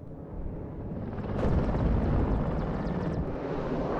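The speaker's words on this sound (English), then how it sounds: "So now we got MiG-21s coming again with their bombing strikes" MiG-21 jets roar in on a bombing strike in a modern combat video game, a loud swelling rush of engine noise that peaks midway and lingers, with no voices.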